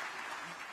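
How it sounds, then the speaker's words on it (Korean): Cheering and applause break out at a contemporary art auction in New York as a winning bid is decided, a steady wash of clapping and crowd noise lasting under a second. "팽팽한 긴장감 속에 낙찰자가 결정되고 환호성이 터져 나옵니다"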